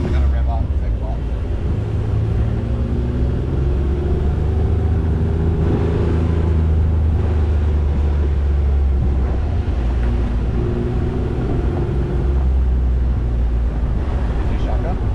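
Off-road vehicle on a Kualoa Ranch Raptor tour in Oahu, Hawaii, its engine rumbling loud and close as it revs and pulls away, with wind buffeting the microphone and people talking over it.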